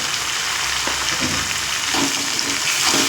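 Boiled mung dal and banana stem go into a hot pan and fry with a close, loud sizzle that holds steady, with a few soft stirring scrapes near the end.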